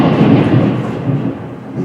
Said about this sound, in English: Hear the thunder, folks.